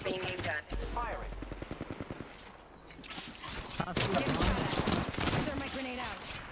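Automatic gunfire in the shooter game Apex Legends sounds as rapid bursts of shots, close and punchy, repeating across the clip with game effects and some voice chatter mixed in.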